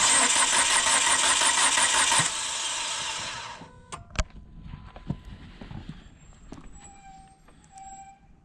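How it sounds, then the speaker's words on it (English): A car engine at a roadside on a snowy day cranks over, then catches and settles into a steady idle, alone and fairly close. "So I'll crank it over and we'll see how that turns out."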